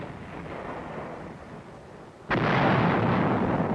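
US heavy artillery fires in a combat engagement, a sudden loud boom partway through that cuts over a rumbling background and leaves a sustained roar behind it, with no talk.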